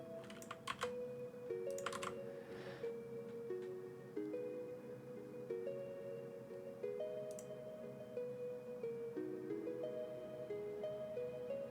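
Steady typing on a computer keyboard during a live coding stream, with soft rapid key clicks running throughout, close and fairly quiet over faint background music.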